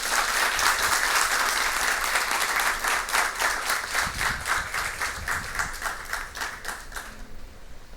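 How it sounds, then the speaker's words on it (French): Warm applause fills a school hall as players are introduced for a lycée quiz match, dense clapping from a large crowd that rolls on for several seconds and then stops abruptly. "que je vous demande d'applaudir très chaudement"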